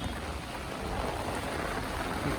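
Steady rain hisses evenly during a cyclone in Kalambusare village, a dense continuous patter with no pauses.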